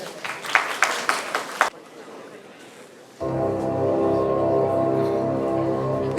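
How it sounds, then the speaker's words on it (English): Crowd applause and cheering for a patriotic dance performance by a college dance club at a Republic Day celebration, a burst of clapping at the start that drops away, followed by music starting up. "Let's give them a huge round of applause"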